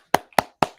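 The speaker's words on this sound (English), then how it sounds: "Clapping frantically." Three quick, sharp hand claps come close together at an even, hurried pace, each a crisp, loud smack with a short decay.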